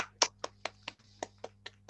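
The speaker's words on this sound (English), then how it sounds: "So please clap into the microphone." A single pair of hands clapping close into a microphone at an online fiction reading, eight or nine crisp, evenly spaced claps with quiet gaps between them and no other sound.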